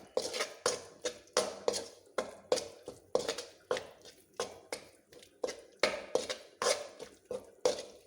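A spoon stirs tomato ginger chutney seasoned with fenugreek and asafoetida powder in a pan, giving a steady series of quiet scraping, clinking strokes at a regular rhythm, close by with no talking.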